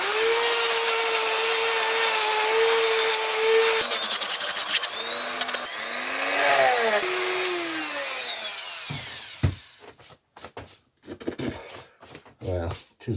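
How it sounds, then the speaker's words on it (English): A Dremel rotary tool whines at high pitch while sanding metal, its tone rising and dipping as pressure changes, then cutting out into scattered clicks and handling knocks near the end. "I'm going to get the old Dremel out and sand this down."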